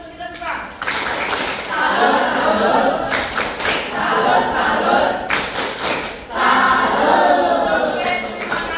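An Indonesian school counseling session in which a group does the "tepuk salut" chant, with bursts of rhythmic clapping and thumps alternating with chanted voices, loud and close, pausing briefly between rounds.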